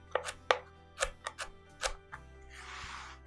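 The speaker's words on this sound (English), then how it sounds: "I'm going to take the celery stalk and just cut strips so it's easier to chop up" A knife cutting a celery stalk into strips on a board: about seven crisp, separate chopping knocks at an uneven pace, close and clear, then a short soft rustle; no speech.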